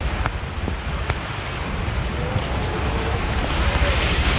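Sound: stormy sea waves

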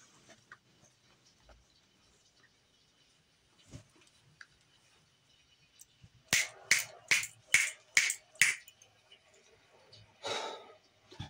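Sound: finger snapping

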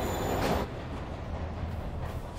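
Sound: train in Spider-Man video game

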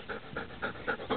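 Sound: dog panting

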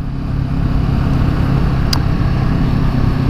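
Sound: car engine revving

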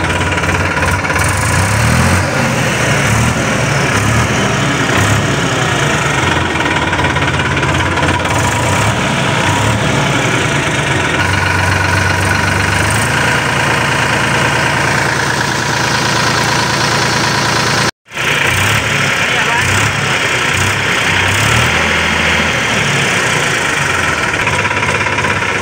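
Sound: tractor engine idling

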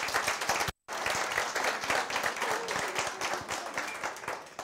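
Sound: audience applause at graduation ceremony

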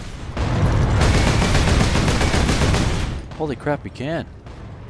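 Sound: explosive barrels shot and exploding in Warhammer 40K: Space Marine video game

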